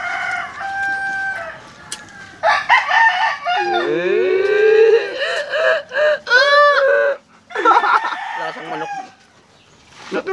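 Loud native chickens clucking and squawking nearby, with a rooster crowing in drawn-out calls among the flock.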